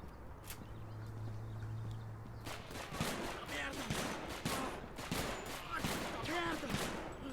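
Gunfire in a video game: after a quiet stretch with a low steady hum, a rapid series of sharp shots and bursts starts near the middle and keeps going, moderately loud with no talk over it.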